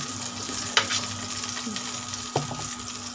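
Potatoes and pointed gourd fry in a pan with a steady near sizzle, broken by two sharp clinks of a utensil against the pan and some brief stirring.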